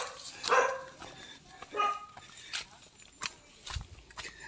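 A dog barks a few times on a farm, with short separate bursts at moderate distance, alongside people talking and a few scattered thumps and footsteps.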